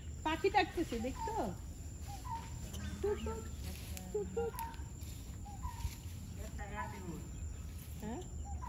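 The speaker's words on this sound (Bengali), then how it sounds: "পাখি ডাকতেছে, দেখছো?" Birds call outdoors on an evening, with repeated chirps and clucking notes over a constant insect drone. Voices can be heard faintly in the background.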